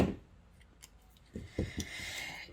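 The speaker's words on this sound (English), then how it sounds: "I need a little bit more of a snip." Scissors snip paper for a Spelbinders koala card, making a few sharp, close, quiet cuts scattered across a moment of near silence, with faint paper rustling between them.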